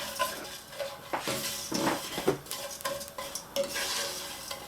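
Panko crumbs toasting in a pan on the stove, soft dry sizzling under repeated scraping and stirring strokes, with occasional clinks of a utensil against the pan.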